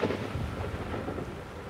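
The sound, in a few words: heavy rain and thunder in South African mountains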